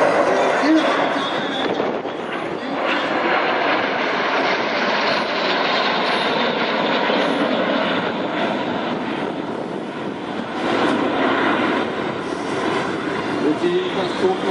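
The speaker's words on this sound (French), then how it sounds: "arrivant face à vous en formation Avenger, le Brighton Jet Team" Breitling Jet Team jet aircraft flying past in Avenger formation at an airshow in Sion, a loud sustained roar of engines that holds steady throughout and swells slightly at points.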